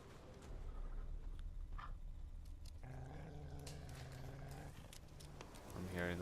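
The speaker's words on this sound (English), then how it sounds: "I'm hearing the growls of more wolves." Wolves growl in The Witcher 3: Wild Hunt, low rumbling snarls rising over steady game ambience and swelling again toward the end.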